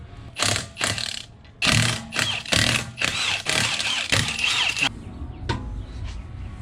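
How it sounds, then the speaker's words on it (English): Impact wrench fitted with a 17 mm socket during a brake rotor and pad change on a BMW E46, giving several sharp whirring bursts of varying length, close and loud, with short pauses between them. "I got a 17 millimeter on that freaking impact right there"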